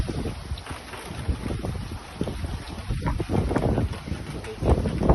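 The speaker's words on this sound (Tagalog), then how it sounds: "So malakas po ang hangin sa oras na ito." Strong typhoon wind buffets the microphone in gusty, roaring bursts, with a rough low rumble throughout and a voice speaking beneath it.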